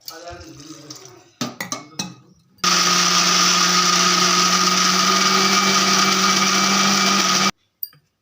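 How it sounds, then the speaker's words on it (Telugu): A mixer grinder grinding black chickpea dosa batter with salt, water and tamarind water whirs loudly and steadily for about five seconds after a few short bursts, then stops abruptly; faint talk comes before it. "మళ్ళీ మిక్సీ అయితే పట్టేసుకుందాం"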